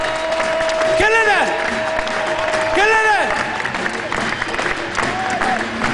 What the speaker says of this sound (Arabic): تصفيق كبير لهذا